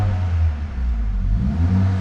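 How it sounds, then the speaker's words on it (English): A Mercedes GLA45 AMG engine is revved while parked, giving a loud, steady, deep engine drone with a gentle rise and fall in pitch across two seconds and no talk. "Let's give the car a little rev."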